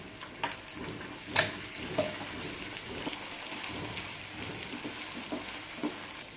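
Ginger garlic paste frying in oil with onions and curry leaves, for street-style egg bhurji, gives a steady close sizzle. A few sharp stirring knocks come through, and nobody speaks.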